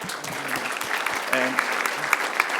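An audience at a legal tech moot court event applauds to thank the judges, a moderate, steady patter of many hands clapping with a few sharper individual claps standing out.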